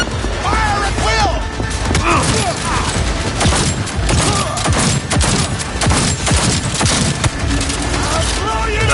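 Dense gunfire rattles through a firefight in the Cyberpunk 2077 video game, with rapid overlapping shots, bursts and crashing impacts filling nine seconds, loud and continuous, with voices shouting beneath.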